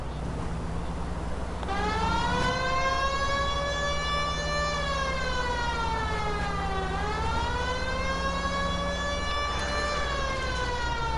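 A police car siren in the video game LA Noire wails steadily and loud, rising and falling in a smooth sweeping tone that carries on for the whole stretch with no talking over it.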